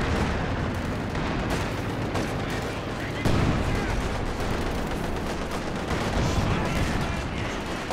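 Machine-gun fire in the World War II strategy game Company of Heroes 2, a dense continuous battle clatter with thick rumbling layers of shots and explosions filling the whole stretch.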